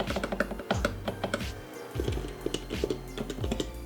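Typing on an HHKB Professional Hybrid Topre keyboard: a quick, uneven run of soft, muted key thocks at close range, quiet and alone.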